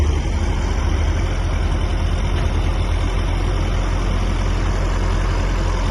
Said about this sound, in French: Fabien il va piloter le tracteur